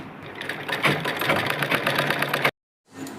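A sewing machine runs steadily, stitching a seam on a lacha blouse, then stops abruptly before briefly starting up again.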